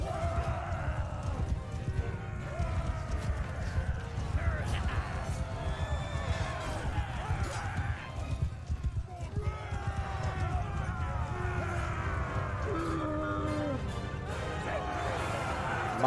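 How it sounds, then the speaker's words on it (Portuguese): A herd of horses gallops in battle in Mount & Blade 2: Bannerlord, dense clattering hoofbeats with scattered whinnies and clashing noise running continuously, while someone talks excitedly over it. "Parece que estourou uma manada, olha aí! Olha o tanto de cavalo!"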